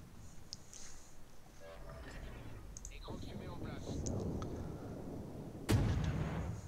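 Naval guns firing from a ship in a video game, a series of booming shots and a heavy blast near the end, all under continuous game noise and engine rumble.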